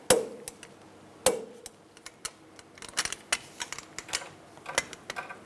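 Torque wrench tightening front brake caliper bracket bolts on a 2002-2005 Chevrolet Trailblazer: two sharp metallic clicks about a second apart, then a scatter of lighter ticks and clinks close by.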